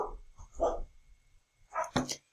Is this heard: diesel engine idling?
no